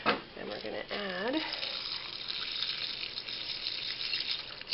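Beans poured from a bottle into a simmering trail stew soup make a steady wet slosh and gush, close up, with a brief voice-like tone near the start.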